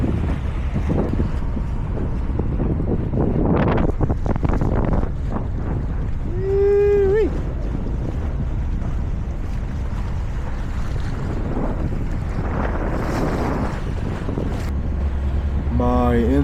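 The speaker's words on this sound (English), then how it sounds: "My engine is a Yanmar 30, and cruising speed is about 6 to 8 knots" Sailboat running under its Yanmar 30 diesel at around 6 knots, a low steady engine drone beneath heavy wind buffeting on open water, with a brief voice and whistle-like tone mid-way.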